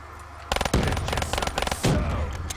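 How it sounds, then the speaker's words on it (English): Two grenades detonate in Black Ops 3 Zombies on The Giant map. The explosions sound loud and close, with rapid crackling bursts and a second blast following the first. "I'll throw 2 grenades down, pop them off"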